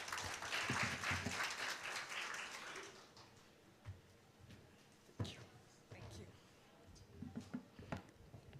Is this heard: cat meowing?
no